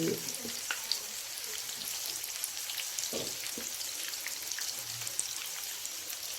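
Vegetable pakoras fry in hot oil with a steady crackling sizzle, close and continuous, with occasional soft clinks and stirs.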